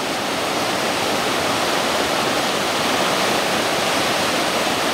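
High floodwater from Tropical Storm Irene rushing loudly and steadily past the Route 44 West bridge in Brownsville, Vermont, a dense unbroken roar filling the whole span with no talk.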